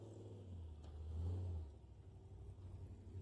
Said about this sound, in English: Always get blasted by the exhaust here.